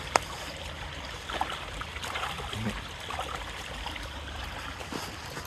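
A creek on a farm flowing smoothly, a soft, steady trickle and babble of water heard close and fairly quiet, with a few small splashes and no voices.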